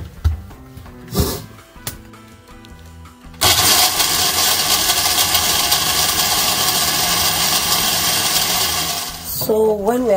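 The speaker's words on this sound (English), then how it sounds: "Add some water and then blend." An electric blender whirs loudly and steadily for several seconds as ingredients and water are blended for Cameroonian goat meat pepper soup, starting abruptly after some light kitchen knocks, with a brief voice near the end.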